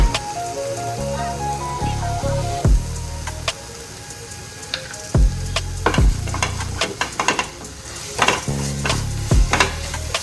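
Sliced onions being stirred as they fry in a pan for prawn biryani, with sharp scraping knocks of the spoon against the pan over a steady sizzle, close and fairly loud, with background music throughout.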